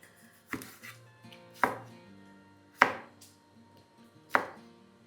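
A knife chops chukkakura leaves and tomato on a cutting board in four sharp, well-spaced strokes, quiet and close, with faint background sounds and no talk.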